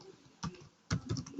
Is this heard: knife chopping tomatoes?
no